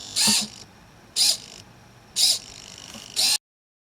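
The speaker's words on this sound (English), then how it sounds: "when we turn the power switch on, it will run the code to turn the servo to various positions over 1 second intervals" A hobby servo motor driven by an Arduino steps to new positions at one-second intervals, giving four short, loud whirring bursts with a quiet electrical hum between them and no talking.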